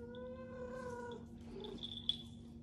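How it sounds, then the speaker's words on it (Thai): A cat in heat caterwauls in long, drawn-out wavering yowls, fairly close and moderately loud, with no talking over it. "เรามาดูอาการของแมวที่เป็นฮีทกันค่ะ"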